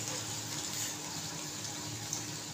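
A little water is poured into an eggplant and potato curry in a pot, a steady, fairly close, quiet trickle that runs without a break for the full couple of seconds and carries no speech.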